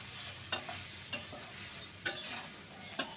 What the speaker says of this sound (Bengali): দিয়ে নাড়াচাড়া করে নিচ্ছি।